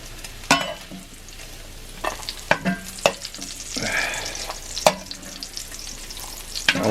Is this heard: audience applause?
no